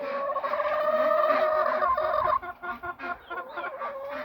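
Backyard hens cluck and squawk loudly and close by, a sustained chorus of overlapping calls that breaks into choppier, separate clucks partway through, with no talking.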